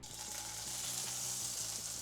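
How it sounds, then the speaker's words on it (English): Vegetables sizzle steadily in a hot pan, a continuous bright frying hiss with low background hum, fairly faint and without voices. "look at those veggies sizzle"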